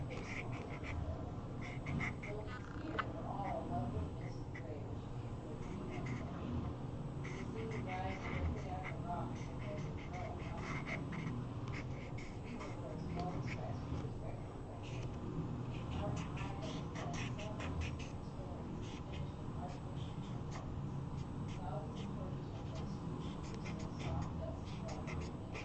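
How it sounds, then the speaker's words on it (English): Mallard ducks quacking outdoors, a fairly faint, steady stream of quacks and low duck calls over background noise and a voice talking now and then. "Mallard."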